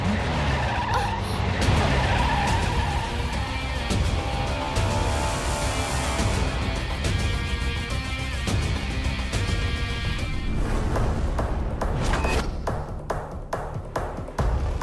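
Car tyres skid and squeal as the car brakes hard to a sudden stop, a long loud screech over road noise with faint clicks at the end.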